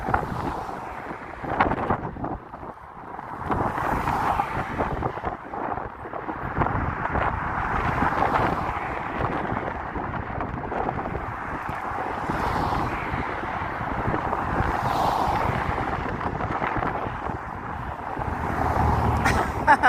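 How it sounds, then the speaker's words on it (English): Gusty wind buffets the microphone on a morning walk through a mostly dirt area in Las Vegas, making a continuous low rumbling roar that swells and eases in gusts. "it is a little gusty out here"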